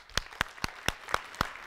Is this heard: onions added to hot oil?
no